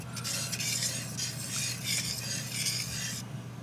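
A spoon stirs thick mac and cheese in a pot, giving rhythmic scraping and wet squelching strokes close by, repeated in even pulses with no talking.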